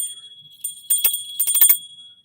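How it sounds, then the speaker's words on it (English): A small tarot bell rung by hand, giving several bright, high metallic rings in quick succession, close and fairly loud, with brief quiet before and after. "So when I ring this bell"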